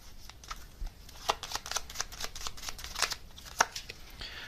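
Gummy bear tarot cards are shuffled and handled up close, a soft run of quick riffling flicks and papery taps at varied pace, with no speech.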